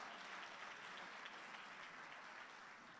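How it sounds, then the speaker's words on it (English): An audience applauds for Miss Lapesheya Koza at an event, a steady wash of clapping that holds evenly, faint and distant, without pause. "Give another round of applause for Miss Lapesheya Koza."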